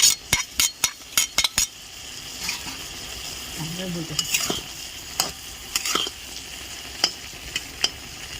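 Fried egg being stirred into vegetable Maggi noodles in a pan, with a run of sharp utensil clinks and scrapes at the start, then a low sizzle and scattered spatula taps, faint voice-like murmurs briefly in the middle.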